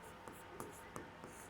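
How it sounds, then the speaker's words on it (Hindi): Marker or chalk writing on a board during a Hindi class: a few short, faint scratchy strokes at an uneven rhythm, very brief and quiet. "देखो मैं लिख देती हूँ यहाँ पर"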